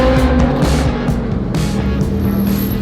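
Stock exhaust of a Lamborghini rumbles loudly and close, a deep engine growl with revving surges throughout, no talk.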